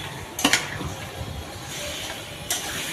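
Pumpkin pieces go into a cooking pot for a shrimp and pumpkin curry with a few clattering knocks near the start and another thud later, over a steady background hiss of cooking.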